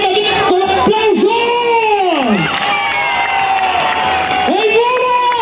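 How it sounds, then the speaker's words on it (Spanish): At a dance contest, a crowd cheers and claps for a dancing couple, a loud continuous roar of shouting voices and whoops with sliding, wailing yells across the whole stretch. "¿Qué dice el público? Si quiere que gane la banda, con aplauso."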